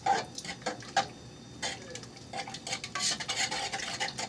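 A fork clinks and scrapes inside a pot of homemade sauce with bamboo shoots, giving sharp, irregular metallic taps and stirring sounds close up.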